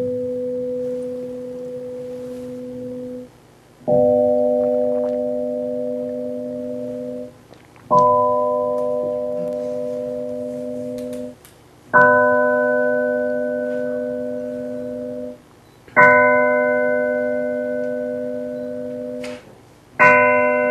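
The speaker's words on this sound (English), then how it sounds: "I can artificially build it up component by component from the low frequency end, and you should hear the timbre of the bell gradually emerge" A synthesized bell tone is built up from its frequency components: six separate sustained strikes, each about three to four seconds long, grow brighter and fuller as higher partials are added one after another.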